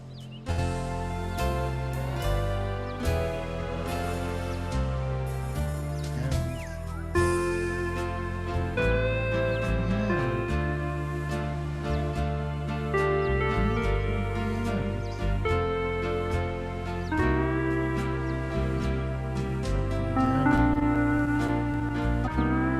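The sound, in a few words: keyboard playing a song, Blue Hawaii style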